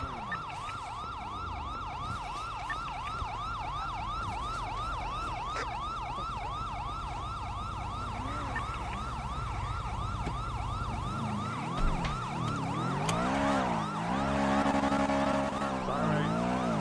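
Police sirens wail continuously in a fast repeating pattern during a chase in the video game GTA RP NoPixel 4.0, loud and close over engine rumble, shifting to a different siren tone near the end.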